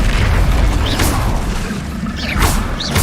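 Bombarda explosion spells in Hogwarts Legacy detonate with deep booming blasts, two bright bursts about a second and a half apart over a constant rumbling game backdrop.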